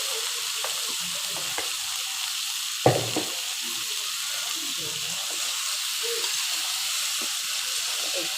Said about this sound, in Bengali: এতেই আমি এখন কেটে ধুয়ে রাখা এই ফুলকপি আর আলুগুলো দিয়ে দিলাম।